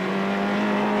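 A Peugeot 205 rally car drives a stage at a 1992 rally, its engine giving a steady, loud drone with strong tonal harmonics throughout a short burst, no voices.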